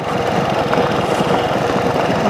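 A motorcycle engine runs steadily while the bike rides over loose gravel on a country road, the front tyre worn flat. The engine drone and crunching rumble stay close and loud and unbroken throughout.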